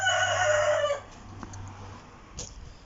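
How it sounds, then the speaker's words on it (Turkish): A loud rooster crows close by for about a second, then fades into quiet farmyard noise with a faint second call. "Bak horozlar da şimdi birbirini kovalıyor."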